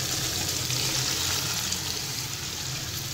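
Water poured into a hot pan of sizzling potatoes and peas for an aloo matar curry, a dense, continuous hiss and bubbling sizzle, close and steady without talk.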